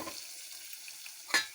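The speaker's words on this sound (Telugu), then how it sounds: "బాగా వేగిన తర్వాత ఈ తాలింపు ఈ దప్పలంలో వేయాలి." Hot fried tempering of ginger and curry leaves hitting a pot of brinjal and mango curry (vankaya mamidi kura), a brief sharp sizzle burst near the end after a quiet low frying hiss.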